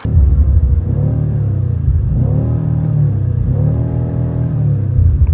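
BMW M car engine revving hard against the rev limiter, a loud close sustained roar with rising and falling harmonic sweeps that bounce off the limiter several times, with no talking.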